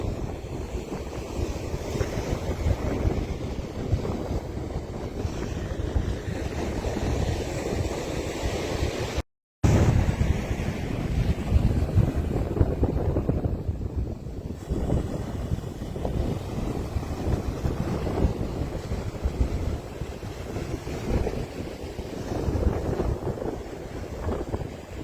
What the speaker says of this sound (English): You can see the wind's been blowing the sand all afternoon.